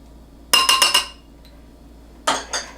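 Keto cookie bar ingredients stirred in a bowl, heard as two close bursts of clinking utensil strikes against the bowl, the first a quick run of four knocks, the second a shorter pair after a pause.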